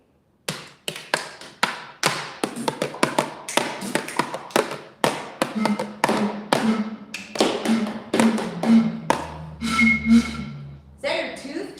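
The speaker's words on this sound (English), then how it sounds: "just shuffle your shoes on the floor with reverb to create the best noise" Shoes shuffle and scrape across a floor in a reverberant room, producing a rapid series of sharp taps and scuffs, loud and close, continuing steadily throughout with a faint low hum underneath.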